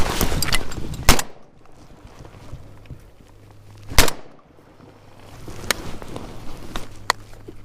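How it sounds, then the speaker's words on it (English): Gunshots fired from a kayak on a main lake while duck hunting for mallards: a loud sharp blast near the start, then a second loud report about three seconds later, with quiet water and wind noise between. "Shooting out of a boat's a little different."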